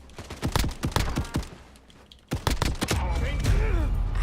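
Machine gun fire in a video game, sharp rapid shots in quick rhythmic bursts, a short pause, then another loud sustained volley with a voice faintly under the shooting.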